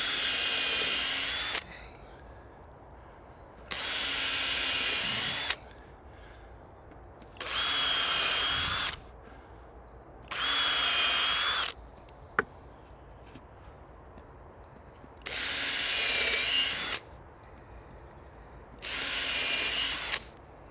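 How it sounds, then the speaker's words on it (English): A power drill pre-drills holes in pallet wood for a chair, six separate bursts of steady high whirring lasting one to two seconds each, with short quiet pauses between them. "So we're going to pre-drill 3 of those."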